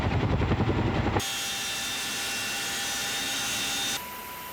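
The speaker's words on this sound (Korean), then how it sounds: "상호 활동팀을 태운 헬기가 이륙했다." A military helicopter lifts off carrying a parachute team, first a loud low rhythmic rotor thump, then a steady roaring whine with a constant engine tone that drops in level near the end.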